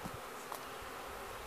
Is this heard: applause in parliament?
no